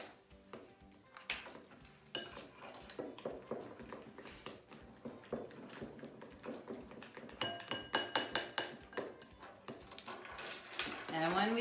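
Lotion mixed into glue and food dye solution for slime in a bowl, with a run of close clinks and taps of a utensil against the container, irregular and fairly quiet, growing busier toward the end.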